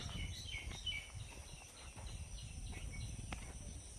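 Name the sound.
birds chirping in the Sundarbans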